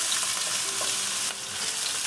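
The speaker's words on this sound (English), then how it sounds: "Cooking our onion for 1 minute." Onion frying in olive oil with cumin seed in a pan on a gas stove, a steady close sizzle with occasional stirring scrapes throughout, no talking.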